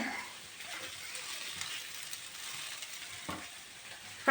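Onion fries in a pan with a faint, steady sizzle and light crackle, close but quiet, with a few soft knocks and no talk.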